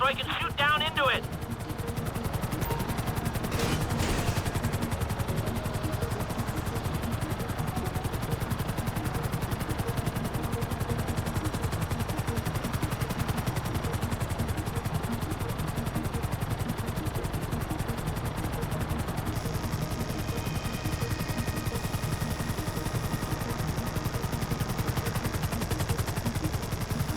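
A GTA video game helicopter hovers with a constant rotor drone while rapid bursts of gunfire crack over it, with voices talking throughout.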